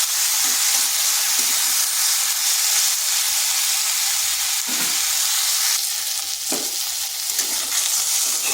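Eggplant pieces coated in salt and turmeric fry with onion in a pan over low heat. A steady, close sizzling hiss runs throughout, with a few soft stirring scrapes and no voices.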